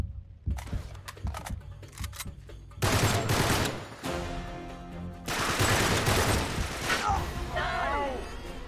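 Bursts of rapid gunfire from the video game Uncharted 3 come in loud clustered volleys separated by brief gaps, with mechanical clicks and a whistling effect near the end.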